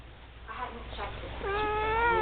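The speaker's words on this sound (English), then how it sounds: "Hey kitty. Sing. Sing for us." A cat gives a drawn-out meow that bends in pitch, preceded by a few softer vocal sounds, while a person speaks encouragingly nearby.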